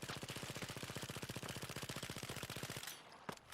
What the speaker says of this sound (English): A submachine gun with a high capacity magazine and a rapid fire rate.